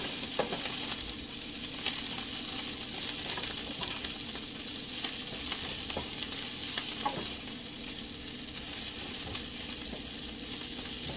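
Kale sautéing in a pan gives a steady, even sizzle with a bright hiss, broken by a few light scrapes of stirring throughout.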